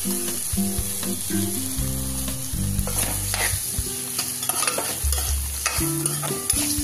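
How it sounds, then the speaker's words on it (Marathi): Diced potatoes and carrots fry with browned onion in a pan, giving a close, continuous sizzle broken by repeated scraping clatters as a spoon stirs them. "थोडं फ्राय होऊ द्यायचं आलू गाजर।"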